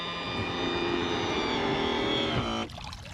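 A 2022 Mercury Pro Kicker 9.9 EFI fuel-injected outboard motor runs with a steady, droning engine tone close by, then its pitch drops and the sound cuts down sharply near the end.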